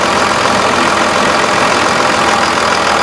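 The diesel engine of a 2001 Dodge Ram 2500 Cummins turbo diesel truck idles loudly and steadily up close, a continuous rumbling clatter with no voices.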